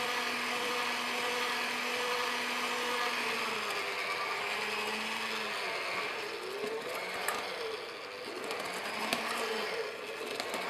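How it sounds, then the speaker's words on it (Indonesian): An electric mixer at low speed churning donut dough, a steady close motor whir with a grinding, ratcheting texture that holds level throughout. "Setelah itu, mixer dengan speed rendah sampai semua bahan menyatu"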